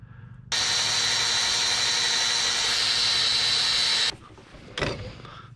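A drill bores a hinge hole in metal while fabricating a 1/14-scale lowboy trailer, running as one loud, steady high-pitched whine for about three and a half seconds before cutting off, followed by a brief clatter.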